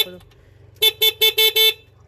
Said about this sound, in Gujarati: એક હોર્ન વાગે છે